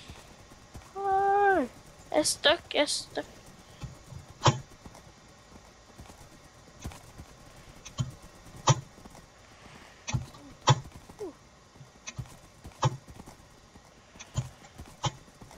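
Horse hooves clip-clopping in Minecraft during an arcade racing minigame, a series of sharp, evenly spaced hoofbeats heard close, with a brief whinny near the start and one voice speaking between them.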